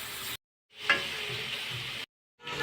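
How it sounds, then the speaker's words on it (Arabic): Minced meat fries in a very hot pan with a loud, hissing sizzle that surges at the start, then holds steady, cut off abruptly twice by silent gaps. "الطاسه بتاعتي سخنت كويس جدا، هنزل بقى باللحمه"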